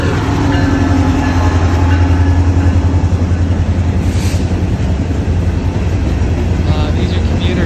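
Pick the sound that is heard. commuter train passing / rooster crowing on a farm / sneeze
commuter train passing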